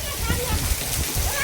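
Rain falls in Mohabbat Para village near Kutiyana as a dense, close hiss of water with splashing, heard alone in a short burst.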